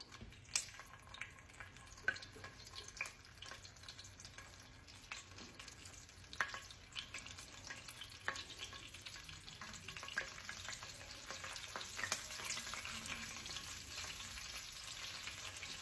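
Breaded ravioli frying in a pan, a quiet steady sizzle and crackle with occasional pops and clicks close by, faint overall with no talk.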